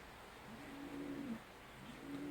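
A young homing pigeon coos softly in a single drawn-out, low warbling call over faint background hiss, with a brief second coo starting near the end; no one speaks.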